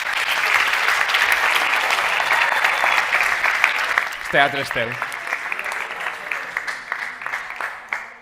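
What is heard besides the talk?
audience applause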